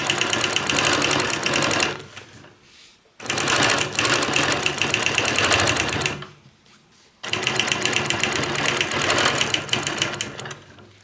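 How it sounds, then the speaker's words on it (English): Sewing machine quilting along a Squiggy ruler, running in three loud bursts of rapid needle chatter separated by short pauses. "I will be quilting all the way here."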